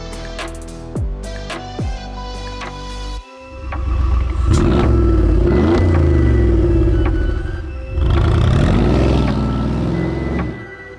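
A turbocharged Lamborghini Gallardo starts off with loud, close engine rumble and revving that swells, dips briefly, then builds again as it drives away through a neighborhood, preceded by a few sharp clicks and tones.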